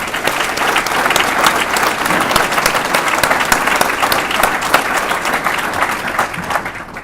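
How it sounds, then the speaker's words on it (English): A community reception audience gives a steady round of applause for longtime Santee Electric Co-op service, dense clapping loud and sustained throughout before easing slightly at the end. "let's give them the round of applause they deserve"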